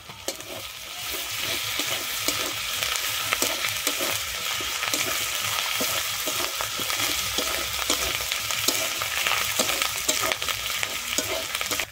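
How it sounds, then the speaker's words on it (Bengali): Ginger and garlic paste fries in a pan with a loud, continuous sizzle and crackle, steady and close throughout, with faint rhythmic stirring scrapes and no voices. "আমার আদা রসুনটা ভাজা হয়ে গেছে।"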